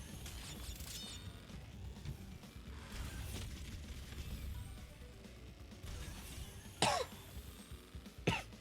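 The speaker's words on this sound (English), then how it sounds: "Sorry for the coughs." Two sharp, close coughs from a person during a Crash Team Racing session, arriving near the end over quiet, rustling background sounds.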